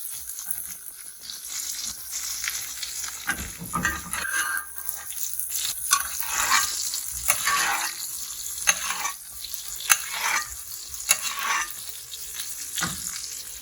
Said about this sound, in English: The steak is taking a bath right now. A butter bath.